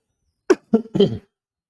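A man coughs three times in quick succession, loud and close with nothing else around, the last cough a little longer and rougher.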